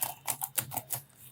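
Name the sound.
typing on a computer keyboard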